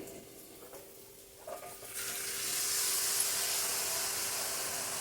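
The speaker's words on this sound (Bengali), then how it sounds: "ভেজে রাখা আলু বেগুনের বাটিটার মধ্যে একটু জল দিয়ে" Water poured into a pan of fried potato and eggplant, starting quietly and then breaking into a loud, sustained hissing sizzle that holds steady to the end.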